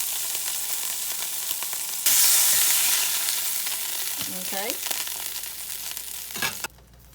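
Hamburger steak gravy mixture fries loudly in an oily pan with bacon grease, a bright hissing sizzle that surges midway, with scraping stir sounds before cutting off abruptly near the end.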